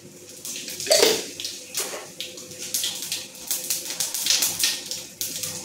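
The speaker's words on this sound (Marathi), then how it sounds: "तेल तापलेलं आहे, ह्यामध्येच मी आता थोडंसं जिरा टाकून घेते" Cumin seeds hit hot oil in a home kitchen and crackle, a fizzing spatter with irregular bursts of sharp pops rising and falling close by.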